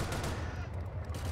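Cannons and machine guns fire in a dense continuous barrage in the World War I Company of Heroes game, loud and close with no distinct gaps.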